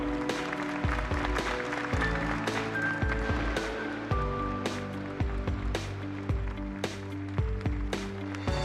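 At the rollout ceremony for the KF-21 Boramae fighter jet, a standing audience applauds under loud brass band music with steady sustained notes, the clapping a crackling texture beneath it.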